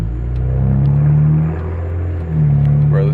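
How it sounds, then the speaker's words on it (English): A BMW 335i twin-turbo fitted with catless downpipes rumbles close and loud with a deep, steady drone, dipping briefly before the revs climb again. "this is about to be the nastiest sounding BMW"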